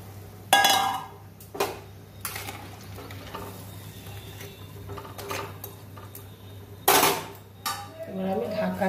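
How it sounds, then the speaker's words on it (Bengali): A lid goes onto a pot of fish curry with potol (pointed gourd) and potato, giving a few sharp metallic clinks and clatters close by against a low steady hum and soft kitchen clatter. "এবার আমি ঢাকা দিয়ে দিচ্ছি"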